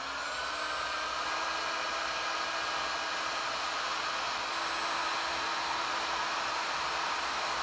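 A heat gun blows a constant hissing, whooshing roar while shrinking tubing onto a double ender, steady and close with no pauses or talking.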